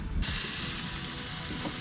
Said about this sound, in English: they're already gonna get a little sizzle to them just because the grill is on